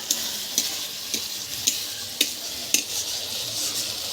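Spice paste for egg curry frying in hot oil, a steady broadband sizzle with periodic scraping stir strokes roughly every half second, close and alone with no talk.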